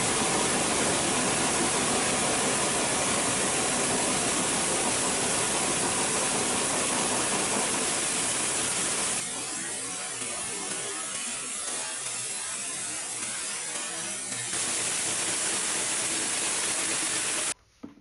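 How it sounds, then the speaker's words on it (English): A hydro jet nozzle flushing a cast iron sewer line at 4,000 psi and 20 gallons a minute gives a loud, constant roaring hiss that drops to a quieter rush midway, then returns at full strength before cutting off. "This is where we hydro jet the line to flush it out. You'll see here a nozzle shooting 20 gallons a minute,"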